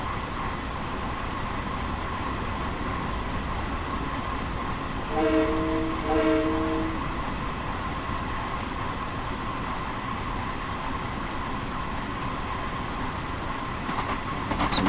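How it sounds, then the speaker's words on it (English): An express train runs on the Long Island line in the Train Sim World 2 video game, a steady rolling rumble throughout with a brief two-part horn blast about a third of the way in. "This is almost like an express train."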